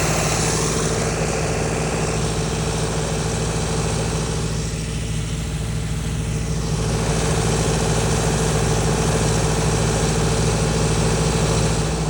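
A long reach excavator idles at a pond being dredged, its engine giving a loud, steady, unbroken drone with a low rumble for the whole stretch.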